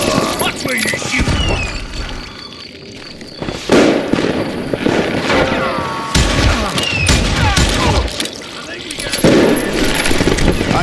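Gunfire in the Western shooter Call of Juarez: Gunslinger, dense crackling volleys of shots and booms amid other game sounds, with voices heard over the chaotic shooting.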